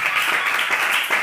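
A studio audience applauds in a brief, dense burst of clapping at close range, with no talking over it.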